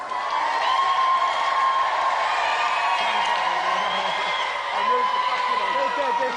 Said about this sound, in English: Round of applause for Duncan